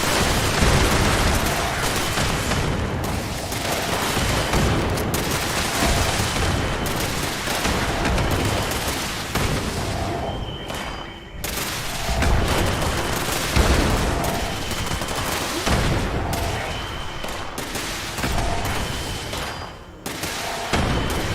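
Sustained gunfire in Fallout 76, dense bursts of shots and booms rolling on without letup, loud and close, with brief dips between volleys and no speech.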